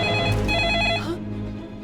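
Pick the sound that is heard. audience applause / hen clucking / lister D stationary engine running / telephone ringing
telephone ringing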